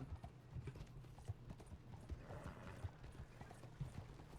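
Horse hooves clip-clopping in Red Dead Redemption II, a steady rhythmic trot of hollow knocks that runs throughout at moderate level over a low, constant background rumble.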